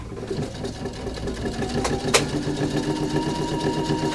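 An embroidery machine runs a placement line for appliqué fabric, a steady close mechanical hum and rapid stitching rattle with a couple of brief clicks, without talk.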